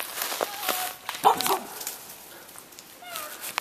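Several dogs in a video game bark and yip in short bursts, with a few whimpers, moderately close, amid light background noise.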